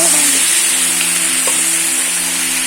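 Ground garlic, ginger, cumin and chili pastes hitting hot oil in a frying pan for a village-style chicken curry, with a loud, steady close sizzle throughout.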